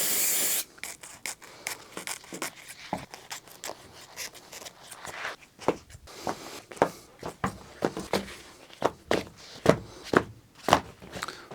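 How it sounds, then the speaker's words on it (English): Silicone spray misted onto the blades of upholstery scissors during VW Transporter T5 Caravelle seat work, heard as a hiss in the opening seconds, followed by a run of sharp, close clicks and snips that grow louder toward the end. "I'm going to spray a bit of silicone spray onto the blades of the scissors"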